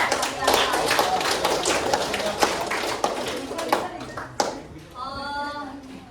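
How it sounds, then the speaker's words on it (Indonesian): A classroom full of people claps in a burst of fast, dense applause that fades out, followed by a brief chirping sound. "kita beri tepuk tangan untuk kelompok 1"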